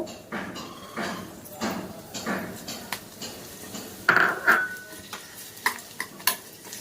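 Flowers stirred into hair oil in a pan over low flame, with a utensil scraping and clinking against the pan in repeated strokes and a soft sizzle underneath, close up and alone.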